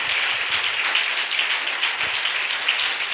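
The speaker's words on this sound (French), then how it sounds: "applaudis pour celui-là." A church congregation applauds together, a steady, dense wash of many hands clapping that holds at an even level throughout, with no voices standing out.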